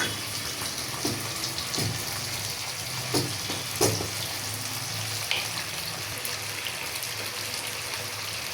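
Chilli chicken sizzling in a pan with soy sauce and tomato sauce while being stirred, a steady frying hiss throughout with a few clinking scrapes of the spatula, no talk.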